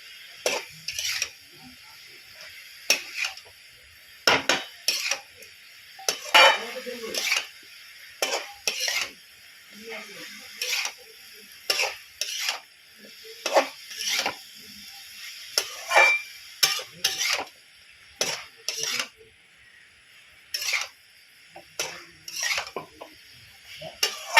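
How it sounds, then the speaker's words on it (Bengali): A pot of food is stirred in a Bengali home kitchen, with a spoon scraping and clinking against the pot in repeated short bursts and a faint sizzle underneath, close and fairly loud, with no talking. "এবার আমি এটাকে একটু নেড়ে দেবো, এদিক ওদিক করে নেড়ে আর একটু জল দিয়ে চাপা দিয়ে দেবো।"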